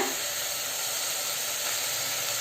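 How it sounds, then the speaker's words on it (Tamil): Mutton pieces sautéing in a pan with onion, ginger and garlic for mutton chukka, a steady, close, broadband hiss and sizzle with no pauses and no talk. "மட்டன் போட்டுட்டு இப்போ நல்லா அந்த வெங்காயம் இஞ்சி பூண்டு கூட நல்லா சேர்த்து வதக்கணுங்க"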